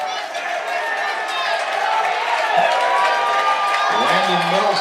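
A high school football crowd at a Menomonie vs. Eau Claire Memorial game cheers steadily, the roar sustained throughout with scattered shouts, while a play-by-play announcer talks over it.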